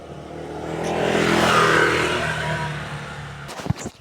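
A motor vehicle, most likely a motorcycle, swells in from a distance, passes close by at a steady broad roar and fades out over about three seconds, ending with a few sharp clicks nearby.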